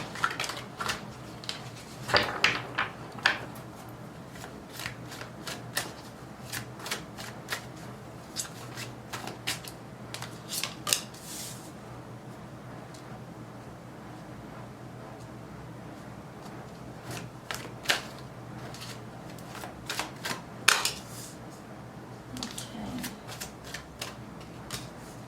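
Tarot and oracle cards being shuffled by hand in a quiet room, with soft continuous riffling broken by sharper flicks and taps as the deck is cut and handled.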